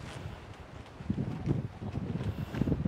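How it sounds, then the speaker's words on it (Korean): Outdoor wind gusting on a walking path near a restaurant in Rawai, Phuket, as a steady low rumble of wind noise against the microphone, rising in strength during the second half with rustling bursts. "오늘 바람 불어서 너무 시원하고 좋다"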